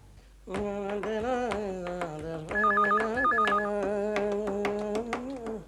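A telephone rings with a warbling electronic tone under a sustained musical backdrop, the ring pulsing in a quick repeated pattern near the middle.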